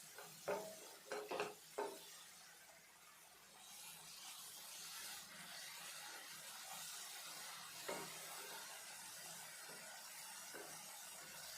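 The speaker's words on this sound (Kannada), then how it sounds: "ಮುಚ್ಚಳ ಮುಚ್ದಿರೇ ನೀರೆಲ್ಲ ಡ್ರೈ ಆಗೋ ತನಕ ಇದೇ ಥರ ಫ್ರೈ ಮಾಡ್ಕೋಬೇಕು ಮೆಂತ್ಯ ಸೊಪ್ಪನ್ನ." Fenugreek leaves fry in an open pan with a faint, steady sizzle. A few brisk stirring scrapes and clinks of a utensil against the pan come near the start, with occasional light taps later.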